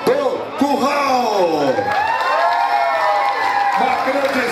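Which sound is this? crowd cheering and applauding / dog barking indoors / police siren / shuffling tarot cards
crowd cheering and applauding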